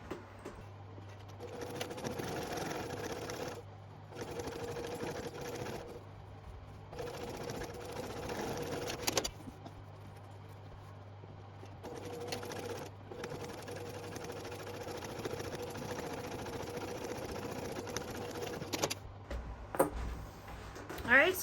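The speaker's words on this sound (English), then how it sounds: "When you sew over your zipper right here, go nice and slow." A home sewing machine stitches a seam over the zipper of a fabric double-pocket zipper pouch, running in several steady whirring bursts separated by short pauses, close and fairly quiet.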